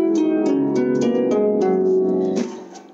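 Harp scales played with the thumb alone, running quickly up and down in an even stream of plucked notes for about two and a half seconds before the last notes ring out and fade.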